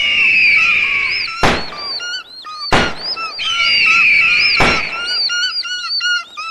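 Red-tailed hawk screeches in a film scene: repeated high, descending cries in rapid clusters, loud and near, punctuated by three sharp broadband thumps.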